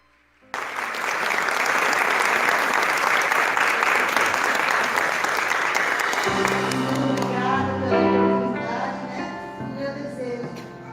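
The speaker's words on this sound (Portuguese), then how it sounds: "Você pode aplaudir ao Senhor Jesus?" A church congregation claps loudly and steadily for several seconds during a service, then the applause thins as instrumental music rises underneath.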